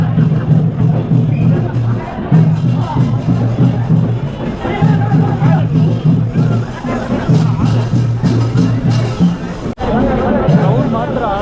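A crowd of fans chatters at Santosh Theatre, dense overlapping voices forming a loud, continuous babble with a nearby voice talking over it.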